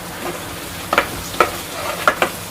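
Onions with turmeric stirred and frying in a pan, giving a steady low sizzle with several distinct scraping stirs of the spoon against the pan, close and moderately loud.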